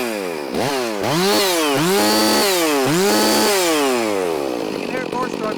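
A Stihl MS 460 or Husqvarna 562XP chainsaw fitted with a muffler fires up and revs in several rising and falling bursts, loud and close, before easing back.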